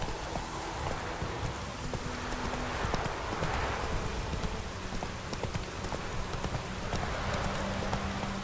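Roach the horse trots in The Witcher 3, hooves clip-clopping in a steady, fairly close rhythm, with a soft patter like rain underneath and no voices.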